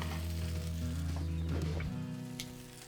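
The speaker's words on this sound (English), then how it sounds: "let's watch that steak turn and cook nice and evenly" Steak sizzles steadily on the hot stone inside a Revolve pizza oven, a continuous close frying hiss over a low hum that eases toward the end.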